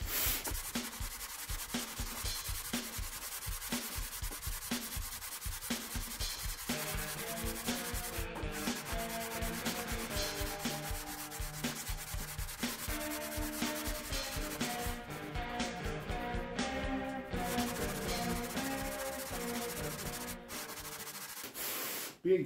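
80 grit sander working on the body of a square body Chevy truck, a steady close rubbing and sanding sound with pulsing strokes and a whirring tone, continuous with no talking.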